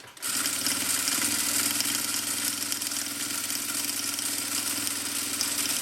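A sewing machine stitching the finishing seam on a strap for a manicure case, starting up then running at a steady rapid whir with a constant mechanical hum for several seconds, close and alone.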